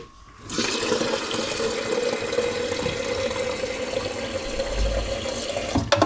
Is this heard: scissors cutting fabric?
no